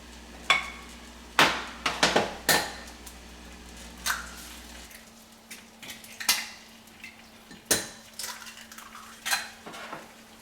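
A metal cooking pan clanks and scrapes repeatedly, with sharp irregular knocks of cookware and utensils over a steady background hum, no talking.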